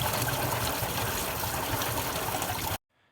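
Coolant from a Jeep XJ lower radiator hose pours out in a loud, continuous gush into a catch pan for nearly three seconds, then stops abruptly.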